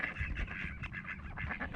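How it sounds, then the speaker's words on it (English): Ducks quack and squawk noisily at a lake, in a dense, overlapping chorus of repeated harsh calls heard from fairly close. "Man, they're squawking about something."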